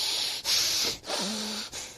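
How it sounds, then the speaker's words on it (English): Nasal friction breathing from a pranayama demonstration, close, breathy hissing through the nose in short rushes separated by brief pauses, with a faint voiced hum near the end. "You can hear the sound of the nasal friction."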